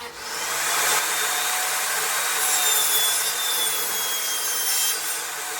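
A saw rips a wooden board in half for a squirrel feeder project, giving a steady, close, harsh cutting hiss that holds for several seconds before easing off slightly, with no talk.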